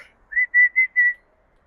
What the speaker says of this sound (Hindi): सीटियां मार रही है